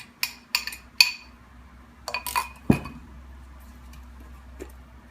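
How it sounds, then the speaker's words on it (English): Eggs are cracked against and dropped into a bowl, giving a handful of sharp clinks and taps in quick clusters followed by a soft thud, close and quiet, with no talking. "I'm going to go ahead and add my eggs in here"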